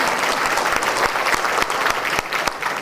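Dense audience applause at a Tamil-language gathering: continuous, fairly loud clapping from a crowd with a few sharper claps standing out, heard alone without speech.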